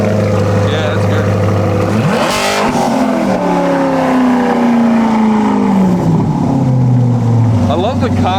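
A loud, close 600hp Lexus GS 300 with a titanium exhaust is revved hard: idle, then a sharp climb, a long falling pitch back down, and another quick blip near the end.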